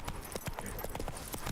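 Roach the horse trots in The Witcher 3, with quick, rhythmic clip-clop hoofbeats close by and fairly quiet, a brief run of evenly spaced footfalls.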